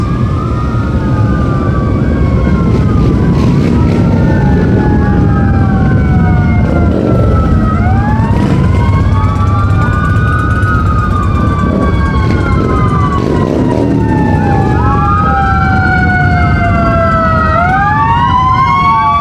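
Several wailing police and emergency sirens overlap, rising and falling loudly over the rumble of heavy vehicles passing close by in a parade procession.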